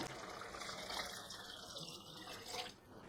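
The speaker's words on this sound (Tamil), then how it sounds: "இப்போ நம்ம எடுத்து வச்சுருக்கிற தண்ணி அதில் ஆட் பண்ணிக்கிறோம்." Water pours steadily into a pot of rice for mutton biryani, a soft, continuous splashing rush that tapers off near the end.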